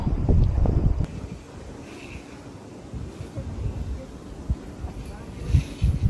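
Strong gusting wind buffets the microphone on a mountain ride along the reverse Sierra Madre route via Pililia, Rizal, a loud low rumble throughout with a heavier burst at the start and more gusts near the end.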